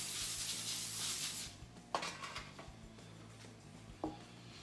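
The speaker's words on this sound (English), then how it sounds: "I'm going to spray it a little bit with some cooking spray." Cooking spray hissing from an aerosol can onto a foil-lined baking sheet, a short continuous spray followed by a few faint clicks and taps of handling the pan in a quiet kitchen.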